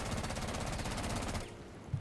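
Automatic gunfire rings out in the video game Rainbow Six Siege, a rapid loud burst of rounds fired into a wall for about one and a half seconds, then cutting off.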